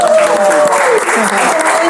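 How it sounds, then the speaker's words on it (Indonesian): An audience at an Indonesian automotive talk show applauding, a loud, dense spread of clapping with people's voices audible underneath and mixed in. "Ya tepuk tangan dulu dong untuk"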